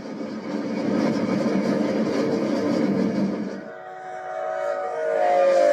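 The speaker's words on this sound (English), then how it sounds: "The train runs over 70 miles per hour across most of this segment" Steam locomotive 3751 racing past at high speed across flat desert, a loud sustained rushing rumble that dips briefly and swells again as it passes close.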